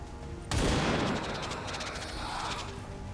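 Gunfire in XCOM 2, a sudden loud blast followed by a sustained rattle of rapid shots and rumbling echoes lasting a few seconds, with no talking.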